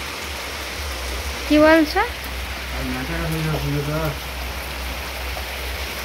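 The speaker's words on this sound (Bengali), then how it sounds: "হঠাৎ করে আবার কি জোরে বৃষ্টি এসেছে।" Heavy rain pours down outside as a dense, steady wash of noise, while a voice briefly speaks over it.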